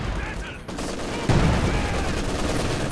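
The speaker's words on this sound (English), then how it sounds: "Oh, that's a good Zis barrage this time." A ZiS gun artillery barrage in a strategy video game rumbles as a dense, continuous wash of distant explosions and gunfire. It swells louder partway through and stays thick with no clear gaps.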